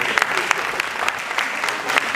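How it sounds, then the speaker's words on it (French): Audience applause at a comedy festival, a steady wash of clapping with a few sharper individual claps standing out, moderately loud and continuous throughout. "Est-ce qu'on peut applaudir, s'il vous plaît?"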